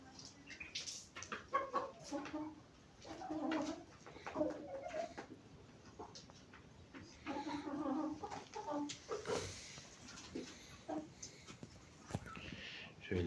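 Chickens clucking and a rooster calling in a coop amid scattered bird noises, fairly faint, with a person speaking intermittently in the background.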